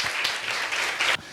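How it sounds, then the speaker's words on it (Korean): Brief burst of audience applause welcoming a professor panel at a carbon-neutral campus forum, steady clapping from a crowd that cuts off abruptly after about a second. "네, 박수로 맞이해주시기 바랍니다."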